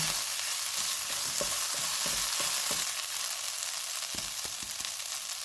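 Beef momo filling with coriander is stirred in a frying pan, giving a soft continuous sizzle with a run of quick spoon scrapes and taps, then a few more near the end.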